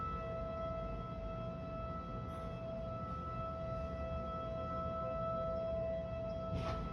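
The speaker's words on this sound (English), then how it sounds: "the tornado sirens are going off" Tornado warning sirens sound over Chicago's western suburbs, a steady, sustained wail that carries from a distance and holds at an even level throughout, with no talking.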